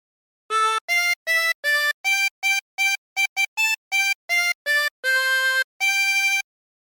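A 16-hole tremolo harmonica plays a Jingle Bells phrase, about fifteen separate wavering reedy notes in a bouncy rhythm with short gaps, the last few held longer, close and clear with nothing else heard.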